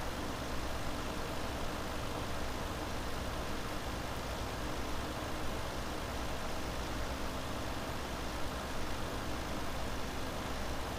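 A Deutz Fahr tractor engine in the video game Farming Simulator 17 runs steadily, a constant low engine drone that holds the same level throughout with no talk.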